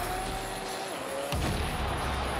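A car blown up in the Rocket League video game: a sudden deep boom bursts in halfway through, breaking over a steady hum of engine and game sound and then lingering as a broad rumble.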